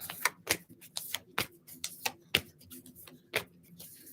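Tarot cards being shuffled up close, a series of sharp riffling snaps repeating in quick, irregular bursts with no talking.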